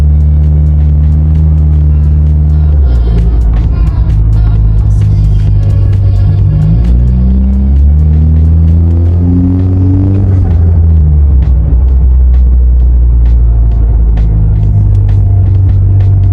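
A car on a road test drive after a repair, its engine rumble and road drone loud and steady throughout, with pitch shifting as it changes speed and gear.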